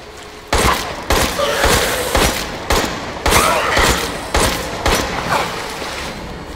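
Gunfire from the video game Resident Evil Village comes as a series of loud, close shots, roughly one every half second to second, each with a short echoing tail, and no voices.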